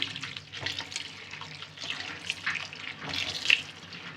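Cut potatoes and carrots rinsed under running tap water in a sink while making potato piyaju; a steady, moderately quiet splash of flowing water swells and eases across the clip, with no talking.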